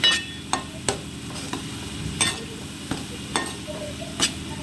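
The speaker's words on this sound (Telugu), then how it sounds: "అడుగంటకుండా బాగా ఫ్రై అవ్వనివ్వాలండి నూనెలో." Ginger-garlic paste with cumin frying in oil, a steady close sizzle punctuated by sharp periodic scrapes and clinks of a spatula stirring against the pan.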